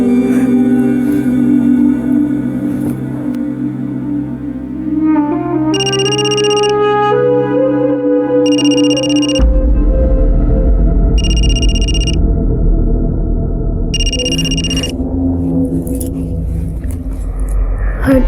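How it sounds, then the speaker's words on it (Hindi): A telephone rings in four repeated bursts of a bright electronic tone over a dramatic music score, with a deep rumble entering midway. "फोन उठाओ"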